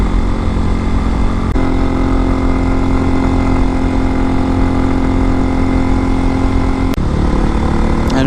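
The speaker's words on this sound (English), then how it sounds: "this Hawk X with the counterbalanced engine is noticeably smoother than the non-counterbalanced CGs" A 2023 Hawk-X 250 motorcycle with a counterbalanced, carbureted engine runs at a steady idle, a loud, close, continuous drone with a smooth, even tone throughout.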